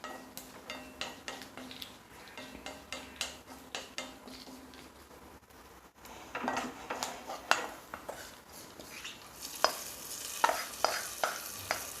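Roasted coconut, browned to a reddish colour, is tipped into a pot of Thrissur-style jackfruit and cowpea erissery and stirred, with scraping spoon clinks and soft sizzling in a steady rhythm, close and fairly loud, without talking.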